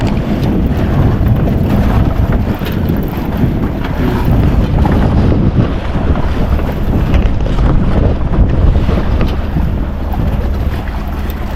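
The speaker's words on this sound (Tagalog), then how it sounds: "Dito may dumating bangka." A motorboat arriving on the Pacific Ocean drones steadily and loudly throughout, with heavy wind buffeting the microphone and the wash of open water around it.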